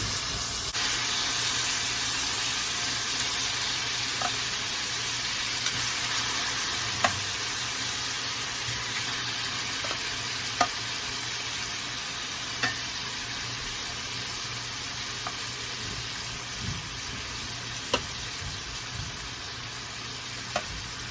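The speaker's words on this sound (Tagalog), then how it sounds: "So I just like to fry, make it brown." Beef steak sizzles in a pan as it browns. The frying hiss is steady and fairly quiet, with sharp little pops and spits breaking through every few seconds.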